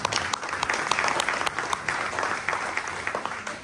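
Audience at a Bavarian Starkbierfest beer festival clapping steadily, a dense, fairly loud patter of many hands lasting throughout with no speech over it.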